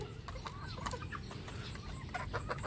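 Hungry hens and roosters cluck busily at feeding time in a flock nearby, with overlapping short calls and squawks that run through the whole clip.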